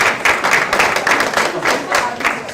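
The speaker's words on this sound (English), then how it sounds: "So girls, I know you've already clapped for your parents, but do it one more time." A room of girls at a basketball banquet clapping for their parents, steady dense applause with sharp individual claps, fairly close and continuing throughout without speech.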